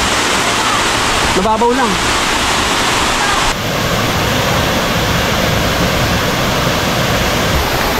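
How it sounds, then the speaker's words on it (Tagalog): The tall falls at Twin Falls in Kalayaan, Laguna pour with a loud, constant roar of rushing water. A voice speaks briefly near the start over the continuous rush. "Ito yung pinakantaas na falls."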